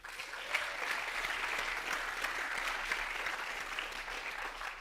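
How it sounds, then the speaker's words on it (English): An audience applauds steadily at a drone industry keynote event, a dense, sustained patter of many hands filling the room at moderate volume for the whole stretch, with no voices over it. "So maybe also an applause for Jackie."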